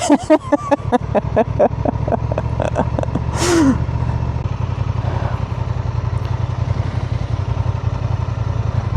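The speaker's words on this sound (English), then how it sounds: "this is probably the first kind of trail this bike has done, and Jez isn't riding it." A 2025 Honda Transalp motorcycle works along a dirt trail, its engine chugging in a steady low pulse that rises and settles, loud and close throughout.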